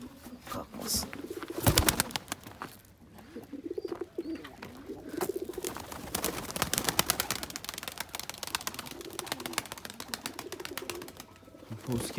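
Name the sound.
many birds in a poultry coop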